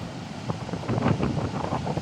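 Big sea waves crash and surge under strong wind during Typhoon Uwan, a continuous loud roar of surf and gusts with rising swells up close, no talk heard.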